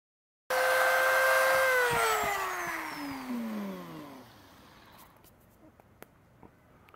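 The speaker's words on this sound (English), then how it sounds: "Got my sanding drum on there." A rotary sanding drum whines up to a high pitch, then falls in pitch as it grinds against an antler being shaped into a measuring spoon, slowing and fading over several seconds before a few faint taps.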